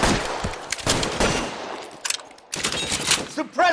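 Gunfire crackles in the LA Noire game, bursts of rapid shots in several volleys with brief gaps, loud and close.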